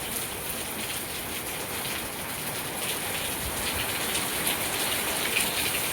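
Heavy morning monsoon rain pours down in a dense, unbroken hiss, close and steady throughout, with no voices over it.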